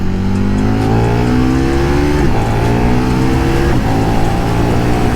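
A KTM 1390 Super Duke R roadster engine pulls hard and loud through rising revs, with gear shifts breaking the climbing engine note twice, heard close and alone.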